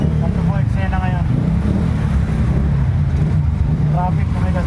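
Vehicles crawl in traffic through flood water at a market area, a steady wash of engine rumble and splashing water filling the scene, with people talking nearby over the noise.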